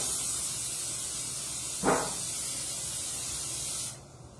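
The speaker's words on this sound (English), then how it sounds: "we are spraying our pan with nonstick spray" A short hiss of aerosol nonstick cooking spray onto a pan, a single burst under a steady background hiss.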